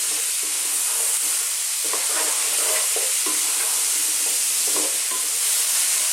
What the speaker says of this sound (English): let's just throw it all around in the pan